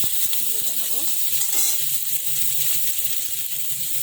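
Dried red chillies, raw onion and green chillies frying in a pan, a steady sizzle with some stirring clatter early on, close and fairly loud with no talking.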